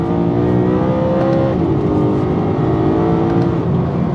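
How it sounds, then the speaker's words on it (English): Induction noise from a BMW E90 M3 engine heard from inside the car with the window up: a loud, continuous revving roar that rises and falls in pitch as the engine climbs through the revs. "I'll put the window up and get some more induction noise."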